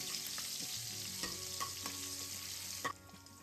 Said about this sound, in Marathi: मिरची जरा फ्राय झाली